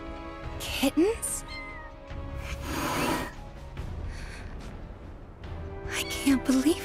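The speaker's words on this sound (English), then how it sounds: "kittens?" Several short, high meows from a cat in the video game Final Fantasy VII Rebirth, set in Nibelheim, coming in two clusters near the start and end, with a person speaking and rustling between them.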